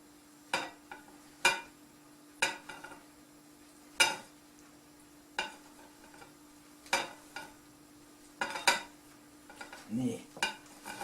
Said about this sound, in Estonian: ja segan ühtlaseks taignes.